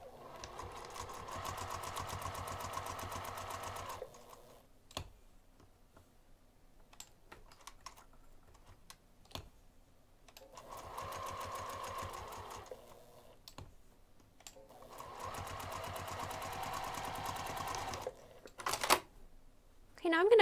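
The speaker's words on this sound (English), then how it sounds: "we're going to sew both of the long edges and 1 short end using 1/4 inch seam allowance" A sewing machine stitches the long edges of a fabric craft bag with a quarter-inch seam, in three close bursts of rapid mechanical chatter separated by quiet pauses with brief clicks and handling.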